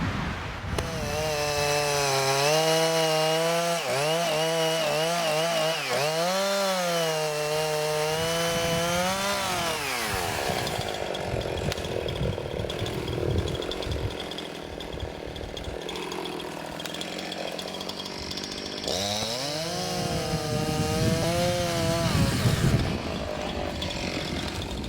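A chainsaw cuts a tree in a forest, its engine revving and dipping through several long, loud passes, rising in pitch as the chain bites into the wood and falling back between cuts.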